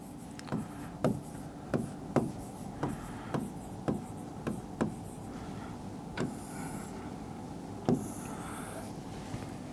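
Marker strokes on a whiteboard during a lecture: a series of short, scratchy squeaks in an uneven rhythm, close and moderately loud, with a brief pause before a few final strokes and no talking.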